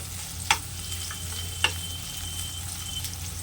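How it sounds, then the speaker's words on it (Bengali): Paneer cubes fry over medium heat in a pan with a low, even sizzle. Two sharp clicks come from the spoon as the pieces are turned, and no one speaks. "সামান্য একটু উল্টে পাল্টে ভাজার পর এ দেখুন পনিরের মধ্যে একটা ব্রাউন কালার চলে এসছে"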